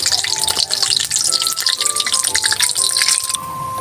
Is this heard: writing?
no